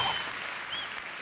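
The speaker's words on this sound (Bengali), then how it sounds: "জোরে হাততালি।" Loud applause from a comedy show's studio audience, a dense, steady burst of clapping that fills the short moment without any speech.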